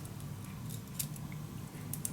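Scissors snipping a short length of craft embellishment material at a tabletop, quiet and close, with soft irregular cutting sounds and no talking.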